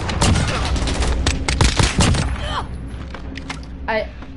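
Rapid loud gunfire from a weapon in the video game Call of Duty, bursts of close shots with echoing impacts that thin out toward the end, with a voice speaking over it.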